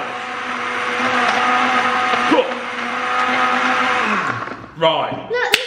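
A blender whirs loudly and steadily, mixing a milkshake with ice, its motor holding a constant droning pitch for about four seconds before winding down, after which people briefly talk.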